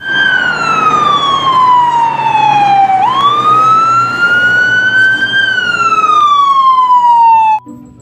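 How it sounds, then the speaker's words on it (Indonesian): A toy ambulance siren wails in a loud, continuous electronic tone that dips slowly, swoops back up and glides down again before cutting off abruptly near the end. "Wow, lihat, ada mobil ambulan."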